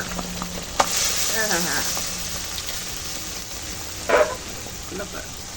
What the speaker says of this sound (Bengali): ফোড়নটা দিয়ে সুন্দর গন্ধ উঠেছে এখন দিয়ে দেব এই সিদ্ধ করা ডাল কচু শাক